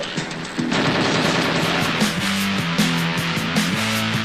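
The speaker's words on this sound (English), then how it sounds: "It's a good old-fashioned shoot-'em-up with lots of explosions." Rapid machine-gun fire and explosions from the Dreamcast shoot-'em-up Gigawing rattle on continuously and loudly, layered over a pulsing synth music track.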